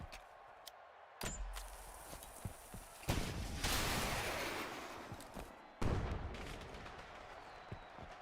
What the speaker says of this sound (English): It's a firework, I guess. A rocket firework.